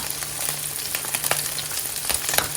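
Egg frying in oil in a pan with fresh chili and spring onion, a steady crackling sizzle with scattered sharp pops and light stirring scrapes, close and continuous.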